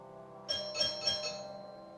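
A warning bell rings in a quiet room, three light ding-like strikes in quick succession with a faint ringing tail fading out.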